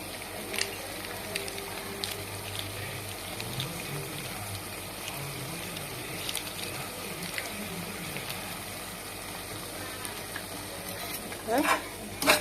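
Ginger garlic paste frying in a pan, a continuous close sizzle with repeated stirring scrapes and small clatters, a brief louder clatter near the end.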